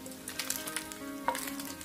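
Chopped bacon fries in its own rendered fat, giving a steady, crackling sizzle with small spits and pops, heard close up and alone.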